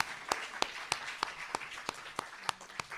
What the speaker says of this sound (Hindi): कम से कम तालियां बजाएंगे तो बड़ी हिम्मत मिलेगी